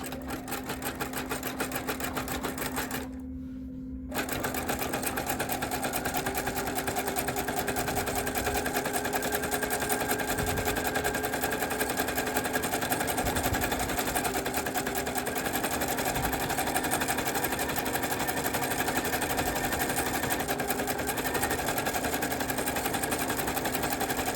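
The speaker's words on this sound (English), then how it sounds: "we want to do one last zigzag stitch all around the outside edge to secure it" A sewing machine runs steadily for over twenty seconds, zigzag stitching around the outside edge of a fabric-wrapped rope trivet, with a rapid mechanical clatter and one brief pause near the start.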